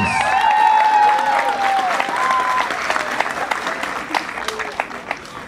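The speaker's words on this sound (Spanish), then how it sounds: "Fuerte los aplausos." Guests at a quinceañera party break into loud, sustained applause with some cheering, while a voice speaks over it early on, then the clapping thins into scattered claps.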